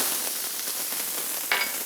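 Garlic and ginger sizzle in hot oil in a pan, making a steady, bright frying hiss with small crackles and a brief louder spit near the end.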